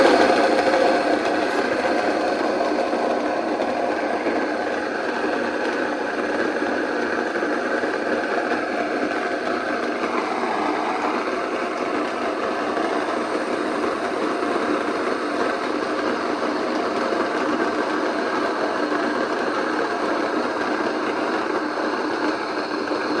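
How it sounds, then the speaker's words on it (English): Mockmill 200 grain mill grinding grain into flour, a loud, steady motor hum with a gritty, buzzing milling texture that runs unbroken from start to finish, close up and with no talking. "I'm going to start with the Mockmill and mill a little bit of this flour"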